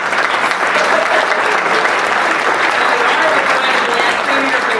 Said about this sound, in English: Oh, go ahead and clap.